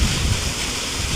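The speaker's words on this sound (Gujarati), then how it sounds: "અને બોરમાંથી પાણી આવે." Water gushes hard from a motor-driven borewell pump pipe on a farm, a loud continuous rushing roar with no pauses or voices.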